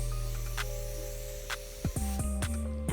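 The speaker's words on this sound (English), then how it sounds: "I'm going to use my bio silk hairstyling spray, and I am going to go underneath my lace. So I'm just going to go ahead and spray." Bio Silk hairstyling spray is misted beneath the lace of a full lace wig in several short, close hissing spritzes, spaced about a second apart over a low background hum.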